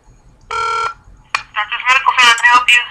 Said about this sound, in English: Somehow we got disconnected